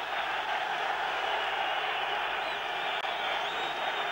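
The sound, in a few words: football stadium crowd responding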